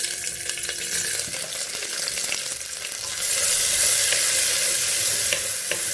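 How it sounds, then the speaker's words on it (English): Finely chopped onions drop into hot oil with browned cumin seeds, and the sizzle jumps louder at about the three-second mark. From there it turns into a steady, close frying hiss that carries on with no talking. "So to this I will add 3 finely chopped onions."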